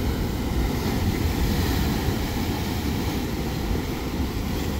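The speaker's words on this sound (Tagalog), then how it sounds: "Ang lakas ng alon, no?" Ocean waves crash on rocks in a steady, roaring broadband rush, with wind noise buffeting the microphone; no voices.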